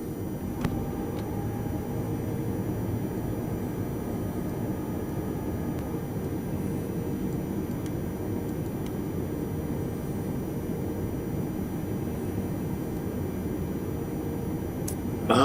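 Steady, broad engine roar of an A320 airliner on its takeoff run in Microsoft Flight Simulator, a constant loud rumble and hiss held unchanged throughout.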